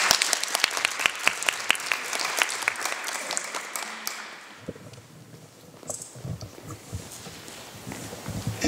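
An audience at a gallery exhibition opening claps, with crisp clustered applause for the first few seconds before it fades into quieter room noise and murmuring.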